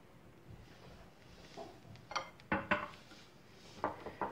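Marinade of ginger, seven spices, salt, black pepper and oil stirred with potatoes in a dish: a handful of soft scraping and clinking utensil strokes against the dish, close and fairly quiet, no talking.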